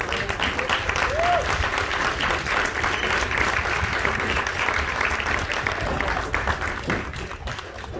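A crowd at a high school baseball game applauds military members and first responders, giving steady, dense clapping that stays loud throughout and tapers slightly at the end.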